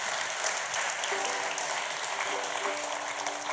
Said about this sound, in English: can we have a round of applause for both the compere of tonight